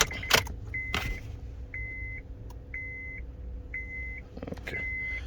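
Car keys jangle near and loud at the start while a 2005 Honda Accord stick shift sits with its ignition cycled for engine computer programming, followed by four evenly spaced dashboard chimes against a low idle hum.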